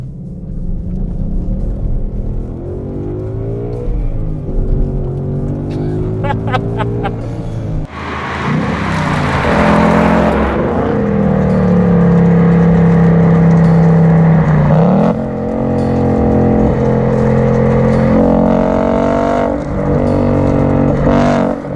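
Ford Mustang GT Performance Pack Level 2 V8 revving hard while driving, with rising and falling engine pitch through repeated accelerations and gear changes, a loud sustained roar that swells sharply midway and stays close and dominant, no talking.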